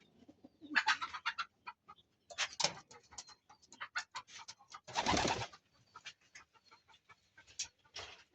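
Racing pigeons coo and flutter nearby in a steady series of soft, throaty calls, with one louder burst midway and no talking.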